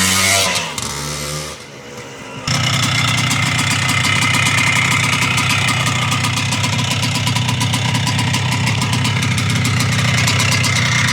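A 1973 Can-Am MX-175 motorcycle with an up pipe starts up and settles into a loud, close two-stroke idle, a steady rapid popping burble that runs to the end.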